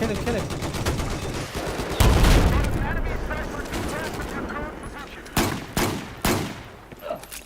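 Gunfire and explosions in a Battlefield video game, dense fusillade rolling throughout with a heavy blast near the middle and several sharp loud shots near the end.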